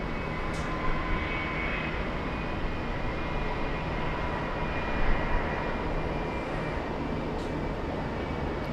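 Pratt & Whitney-engined airliners lining up at LAX in Los Angeles, heard as a steady, distant broadband jet roar that holds through the whole stretch, swelling slightly near the end.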